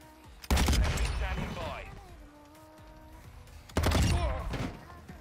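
Weapon fire and drill charge explosions in Call of Duty Modern Warfare, with a cartoony anime-themed blast effect; two sharp, heavy bursts with rumbling tails, separated by quieter game sound and chatter.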